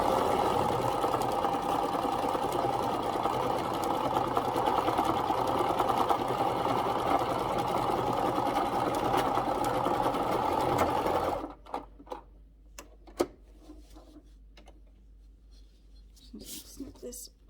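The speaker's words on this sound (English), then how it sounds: "I'm just going to start stitching." A home sewing machine stitches steadily for about eleven seconds during a Christmas crafting session, a dense continuous mechanical whir, then stops abruptly, leaving quiet handling clicks and small movements.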